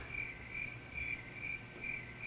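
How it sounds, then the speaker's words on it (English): Crickets chirp alone in steady, evenly spaced pulses at low volume, a quiet sustained chorus. "Crickets."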